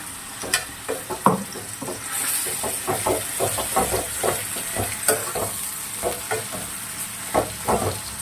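Half a kilo of mutton fries in oil with onions and ginger-garlic paste, giving a loud steamy hiss and sizzle with repeated rhythmic scraping strokes of a spoon through the pan.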